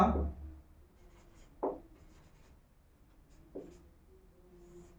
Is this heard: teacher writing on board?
yes